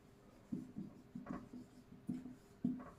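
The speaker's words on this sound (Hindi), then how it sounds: "लिख दिया श्याम।" Pen or chalk strokes writing a short Hindi word, heard as a handful of soft scratchy bursts in an irregular rhythm, close and faint, with no talking.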